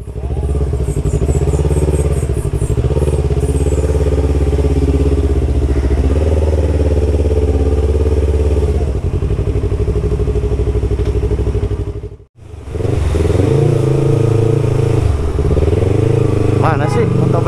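A heavy motorcycle engine revs loud and close, a steady thick roar that drops out briefly before surging back, with people talking over it.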